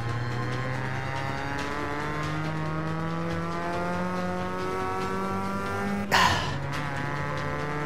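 A race car engine in Forza Motorsport 5 holds a steady, high drone as the car accelerates, then a sharp burst of noise near the end, with no talk.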